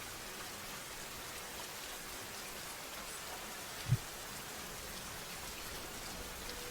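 Steady rain from a played ambient sound track, a soft even hiss throughout with one brief low thump near the end, no voices.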